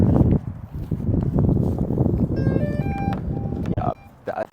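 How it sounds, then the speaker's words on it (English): A DJI Agras T50 agricultural drone powering on, giving a short sequence of rising electronic beeps partway through. The beeps sit over loud rustling and handling noise. "That's the sound of this drone powering on."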